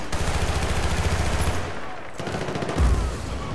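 Shotgun fire in the Battlefield Bad Company 2 video game, heard as dense overlapping gunfire from a firefight with rapid shots, loud and close throughout.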